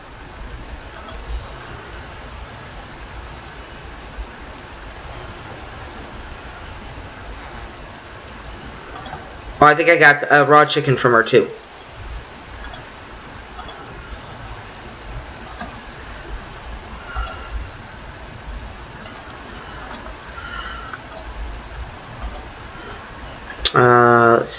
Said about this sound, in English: Dang, that rain's coming out pretty bad.